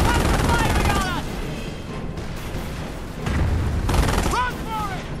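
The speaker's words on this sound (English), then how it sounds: "Target is down! Lots of firing on us!" Battlefield gunfire and explosions in the World War II strategy game Company of Heroes, with loud bursts of shots and booms recurring in waves, mixed with shouted soldier voices.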